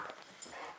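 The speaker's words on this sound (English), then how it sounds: "My dogs are crazy." Dogs whimpering softly in a short burst of high, thin whines.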